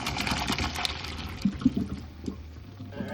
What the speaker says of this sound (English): And some cold water coming.